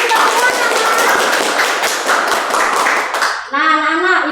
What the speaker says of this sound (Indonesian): Tepuk tangan dulu untuk kita semua, anak-anak.